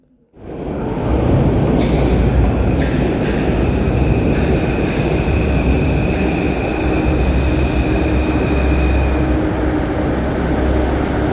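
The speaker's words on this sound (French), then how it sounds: "Heureusement, mon train est arrivé." A Paris metro train pulls into the station with a loud, continuous rumble of wheels on rail, faint high squeals and clicks over the roar, close by and with no voices.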